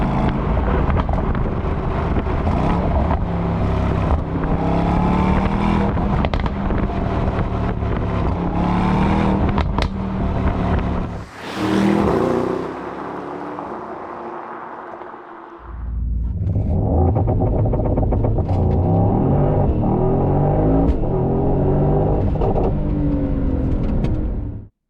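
The twin-turbocharged V8 of a 2025 Mercedes-AMG GT63 Coupe roars through hard acceleration, loud and gritty, briefly dropping away before surging again with a deep, rising growl.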